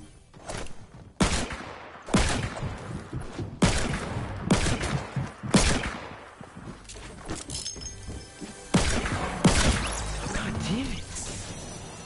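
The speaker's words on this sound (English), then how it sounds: "It was a minigun too." A minigun in the video game Fortnite fires in repeated loud bursts of rapid gunfire, several volleys spread across the stretch, with crashing impacts in between and no voices.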